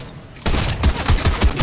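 Rapid bursts of automatic gunfire ring out in a shooting video game, loud close rattling shots with a steady rhythm from about halfway through.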